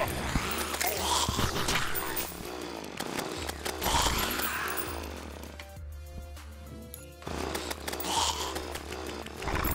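A chainsaw wielded in Terraria revs in long, loud buzzing bursts that repeat with brief dips and lulls between them, harsh and continuous, with no one talking.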